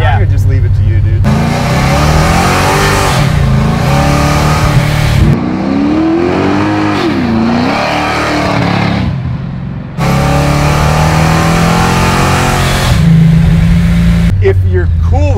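A 650 hp Procharged Chevy Chevelle SS restomod revs loudly and close by, the engine note repeatedly climbing and falling in long sustained pulls separated by short pauses.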